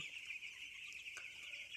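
Broiler chickens huddle together against the cold on a poultry farm at night, giving soft, faint clucks and murmurs that blend into a low, steady chorus.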